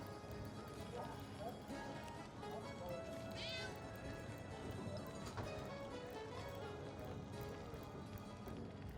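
A cat meows in the video game Divinity: Original Sin, several clear meows rising above a busy, steady game soundscape with music and background voices.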